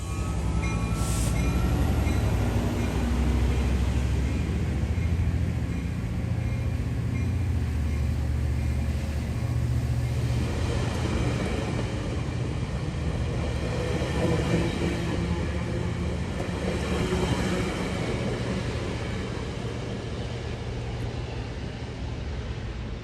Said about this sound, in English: Locomotive 911 powers back up, hauling train 1505 on towards Lakewood